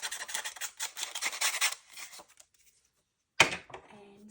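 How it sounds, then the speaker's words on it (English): A sanding block rubs over a paper picture for a junk journal, a series of close, rasping scrubbing strokes that stop for a pause, then one more brief scrape. "I'm going to give that a little bit of a rough up with my sanding block"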